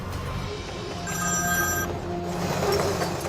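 A telephone rings in a repeating electronic trill over a low steady background rumble, heard at moderate volume with no talk.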